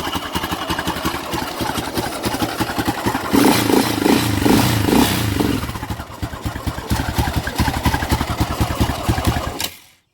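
A 2005 Yamaha Raptor 660R ATV, muffler off and flooding, runs with a loud rough single-cylinder chug, briefly revs louder, settles back to a lumpy idle, then cuts off abruptly, close by with no talk.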